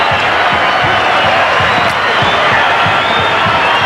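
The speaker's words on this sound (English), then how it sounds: "let's just listen to this crowd applaud a champion team for a champion effort" A rugby league crowd gives a standing ovation to the champion Canberra team after a 66-4 win over Easts in 1990, a loud continuous roar of cheering and clapping that fills the stadium.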